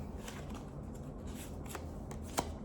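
Tarot cards shuffled by hand, a quiet close papery riffle and flutter with soft taps as cards are drawn from the deck, no talking.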